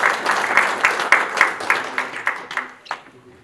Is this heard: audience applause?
yes